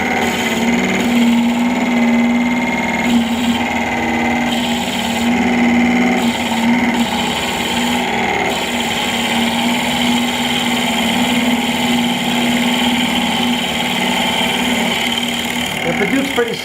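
A wood lathe motor hums steadily while turning a cactus planter as the bit is fed in continuously, a constant close mechanical whine with shifting cutting noise and speech over it.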